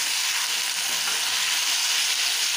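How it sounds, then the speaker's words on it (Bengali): Fish with eggplant, turmeric and salt frying in a pan gives a steady, close, bright sizzle with no voices. "এখন এটাকে একটু ভালো করে ভেজে নেব।"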